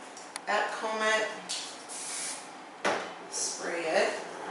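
Hairspray hisses in several short bursts onto a woman's back-combed short hair during styling, the sprays alternating with brushing and rubbing sounds while someone talks over them.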